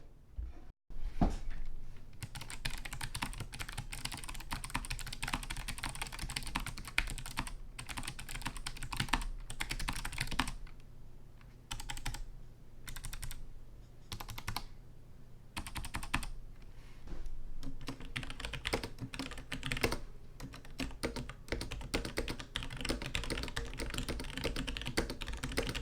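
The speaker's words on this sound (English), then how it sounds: "just to kind of compare some keys, I'll go ahead and do that now so you can get an idea on how the clicky keys sound" Clicky mechanical keyboard keys typed on continuously, a dense close clatter of rapid crisp clicks with brief pauses between bursts.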